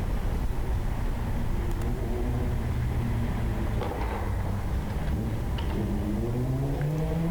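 Car engine droning in a played video, a steady close motor hum with tones gliding down and up as it slows under braking, continuous and fairly loud.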